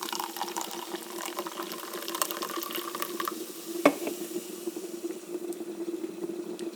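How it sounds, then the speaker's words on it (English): Lemon lime carbonated water pours from a can into a cup, a steady fizzing, splashing stream running throughout with a brief sharper clink partway through. "you open up this can of lemon lime carbonated water and you pour it into this cup"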